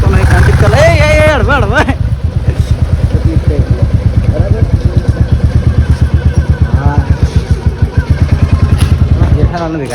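A Bullet motorcycle being ridden thumps out a loud, close, evenly paced exhaust beat that holds steady for several seconds, with voices talking at the start.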